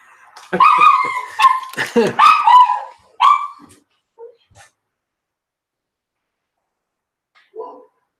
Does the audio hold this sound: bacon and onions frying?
no